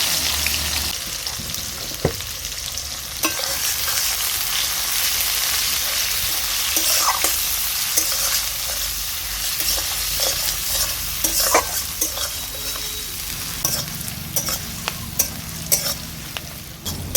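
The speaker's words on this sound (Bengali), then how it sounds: "পেঁয়াজ কুচিটাকে 2-1 মিনিট নেড়ে চেড়ে নিয়েছি" Chopped onions sizzle and fry steadily in a pan while a utensil stirs them with scraping clicks throughout, a close, dense crackle with no talking.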